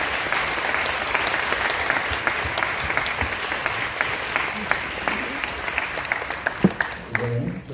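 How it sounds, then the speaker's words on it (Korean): A crowd applauds at a church wedding ceremony, with dense sustained clapping that carries on for several seconds before tapering off. "큰 박수로 축하해 주시기 바랍니다."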